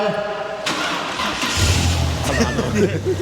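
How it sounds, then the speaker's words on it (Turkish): An Audi A4 Cabriolet 3.0 V6 engine cranks briefly, catches on the first try, and settles into a low steady idle, close by and fairly loud. "Arabamı çalıştırıyorlar."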